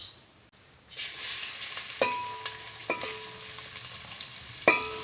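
Steady hiss of ginger roasting in sizzling oil in a pot, with a few sharp clinks of a utensil against metal.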